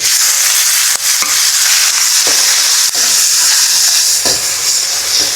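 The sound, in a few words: tomatoes sizzling while frying in a pan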